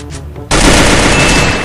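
Loud, sustained burst of automatic gunfire in a crowded shooter video game, erupting abruptly after a brief quiet moment and rattling on densely without pause.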